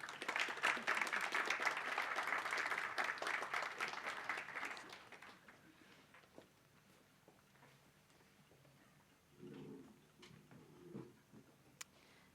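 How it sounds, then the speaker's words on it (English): A hackathon audience claps loudly for about five seconds, then the applause fades quickly into a quiet room with a few faint thumps. "Give them a big round of applause"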